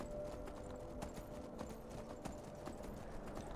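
A horse gallops in the video game Skyrim, its hoofbeats forming a quick, steady clip-clop rhythm at moderate, somewhat distant level, with no talk over it.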